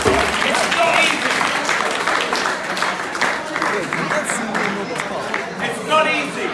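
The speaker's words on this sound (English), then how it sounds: "Can we give a round of applause for these people who will take that risk?" An audience applauds, with a sustained wash of clapping from many hands filling the room, fading slightly toward the end, with voices mixed in.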